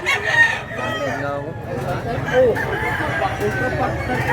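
A rooster crows amid the clucking of other fowl at a rooster market in Mantalungon, Cebu. The crowing is close and loud, and people talk over the birds throughout.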